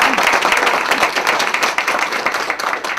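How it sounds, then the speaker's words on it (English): Audience applause fills a breakfast event hall, a dense, steady round of many hands clapping close and loud for about three seconds with no talk over it. "a short round of applause"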